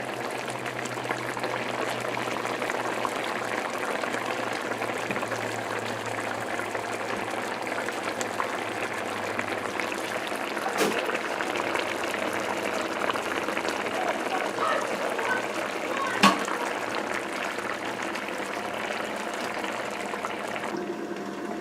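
A tilapia curry simmers in a pot with a steady bubbling hiss and soft popping, continuous and even throughout, with a couple of faint clicks.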